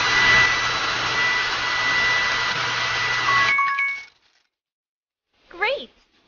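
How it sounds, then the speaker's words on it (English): A hair dryer blows in a kids' monster-care game, a loud steady whoosh for about three and a half seconds that cuts off, followed by a short cartoonish chirp. "Let's dry my hair."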